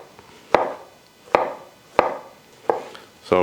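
A knife cuts banana slices on a board, four or five distinct crisp chops spaced at a steady, unhurried pace, close and clear with no talking.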